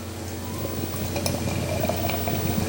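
Heist Brewery's hazy New England-style beer, Blurred Is The Word, pours into a glass with a steady, close gurgling and fizzing stream and a faint clink, with no talk over it.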